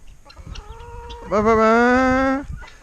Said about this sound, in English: All of the chickens come in here and they lay their eggs in here.